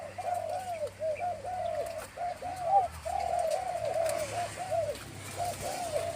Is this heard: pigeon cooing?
yes